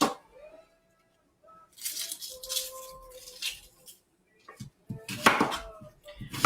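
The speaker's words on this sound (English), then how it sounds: "I love chopping onions." A knife chops a Vidalia onion on a cutting board in uneven bursts of quick, quiet strikes, with soft kitchen clatter and brief pauses between.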